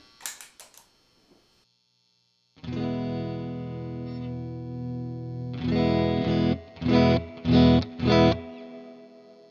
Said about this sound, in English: there's quite a bit of heavy reverb on the AC15